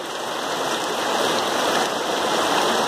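Heavy rain pours steadily on a Sunday afternoon, a dense, continuous hiss of falling water at constant loudness with no voices over it.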